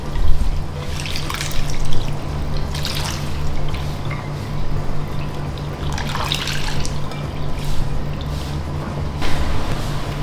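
Instant coconut milk and water pour steadily into a pan while cooking chicken rendang, giving a continuous splashing trickle with a few brighter spatters, fairly loud and close, with no talking.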